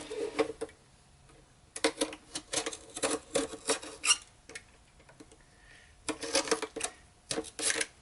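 Cutting away excess fiberglass mat from the edge of a Boba Fett jet pack, heard as bursts of dry rasping and scraping strokes separated by short quiet pauses, close by with no talking.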